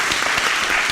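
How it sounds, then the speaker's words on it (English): A dense burst of audience applause for candidates at a live-streamed public forum in Langata, loud and continuous throughout the short moment. "You can clap for them."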